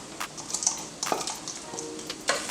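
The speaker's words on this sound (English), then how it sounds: "So I'm going to add a couple more, about another cup of spinach into here." Spinach goes into a simmering stew pot, giving a soft crackling sizzle with light stirring and brief rustles, quiet and close.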